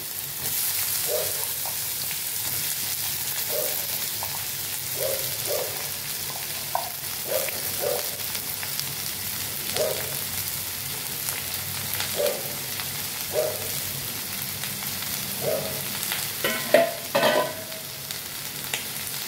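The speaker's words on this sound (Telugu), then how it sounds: "నేను ఆనపకాయ ముక్కలు వేసేస్తున్నానండి" Bottle gourd pieces frying in hot oil for a chutney, with a soft steady sizzle and regular spoon strokes scraping the pan every second or two, no talking.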